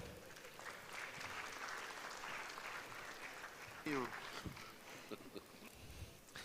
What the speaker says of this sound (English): a round of applause for the amazing panel